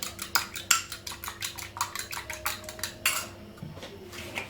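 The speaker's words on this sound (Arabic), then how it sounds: "هنا كما كتشوفوا غادي نحرك هاد البيض" Eggs beaten in a bowl for pizza, a utensil clinking against the bowl in quick repeated strokes, close and fairly loud, with no voices.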